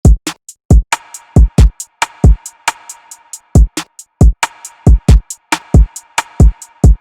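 Trap drums from an FL Studio beat: a steady two-step hi-hat pattern with a snare, played as loud, punchy repeating hits over deep 808 kick thumps in a tight, looping rhythm.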